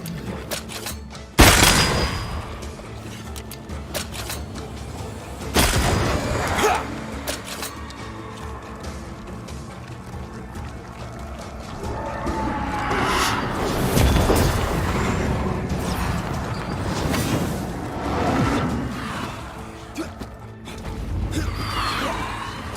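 Gunfire in Banishers: Ghosts of New Eden comes as sharp, loud blasts spaced across the fight, some single cracks and some clustered volleys with crashing impacts, over a low rumbling backdrop.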